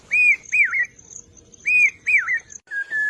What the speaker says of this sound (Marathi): भात शेतीच्या मळ्यावर पावसा पक्षी त्याच्या मधुर स्वरात जणू पेरते व्हा पेरते व्हा